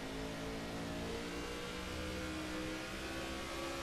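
Several race car engines roar steadily in a NASCAR 15 stock car race at Loudon as cars peel off into the pits, a continuous dense whine with no voices.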